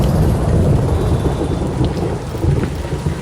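Steady heavy rain pours in a dense city street, with low thunder rolling continuously underneath, loud and unbroken for the whole stretch.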